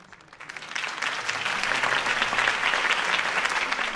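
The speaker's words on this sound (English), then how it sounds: "could have heard that applause" Crowd applause following a campaign speech in the Batman Telltale Series video game, a dense wash of many hands clapping that swells after a brief quiet start and holds loud and steady to the end.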